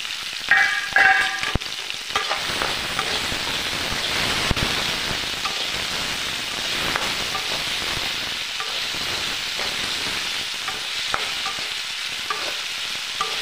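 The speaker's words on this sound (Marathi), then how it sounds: "हलवून घ्यायचं. व्यवस्थित भाजायचं." Sabudana khichdi with tomato being stirred and roasted in a pan, giving a steady close sizzle with scraping spoon stirs throughout and a few sharper clinks near the start, with no voices.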